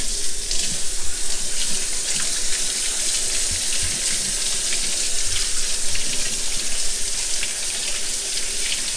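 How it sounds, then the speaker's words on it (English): Cold tap water runs steadily into a sink, a loud constant splashing rush with small irregular knocks as freshly picked strawberries are rinsed underneath. "You want to rinse them really well because you don't want vinegar strawberries"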